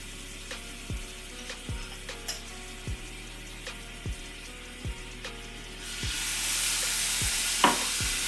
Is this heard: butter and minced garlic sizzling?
yes